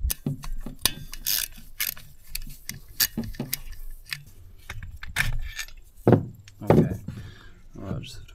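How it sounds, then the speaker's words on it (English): A nut being threaded onto a bolt through a chainsaw casting, with small metallic clicks, ratcheting and jangling taps close by in a quiet room, some louder knocks near the end. "Put a nut on there."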